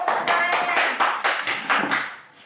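A classroom group claps together in a rhythmic pattern of about nine sharp, close bursts, evenly paced and ending softer.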